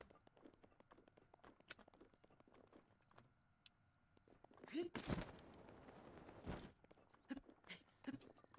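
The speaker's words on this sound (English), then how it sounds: "There's some horses." Horses in Zelda Breath of the Wild on the Great Plateau, with steady faint hoof clip-clops throughout and a louder thudding stretch in the middle, set against quiet ambient game sound.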